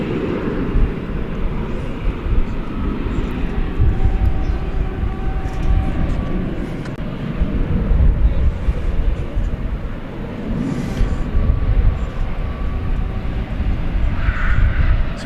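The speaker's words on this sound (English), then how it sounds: "let's check out the arrival of American Airlines Flight 2196" On a gusty night an American Airlines airliner arrives at DFW from Austin, its engine rumble swelling and fading in waves, mixed with wind buffeting the microphone and no talk.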